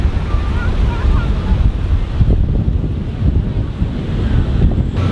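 Ocean waves wash onto a beach at Florianópolis, Brazil, a loud continuous surf roar mixed with heavy wind buffeting on the microphone, with no distinct breaks between waves.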